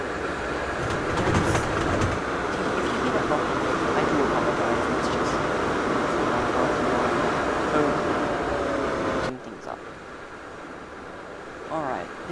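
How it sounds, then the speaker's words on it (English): A train in the video game Train Simulator 2014 rumbles along with a steady rolling drone and faint wheel noise, then drops to a quieter hum near the end. "there's a train back in the way, so I can't see the train"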